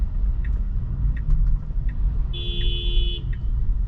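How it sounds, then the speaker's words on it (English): A car horn honks steadily for under a second from a vehicle behind a Tesla driving itself in Ottawa traffic, over a low constant road rumble inside the cabin. "Getting a little honk here"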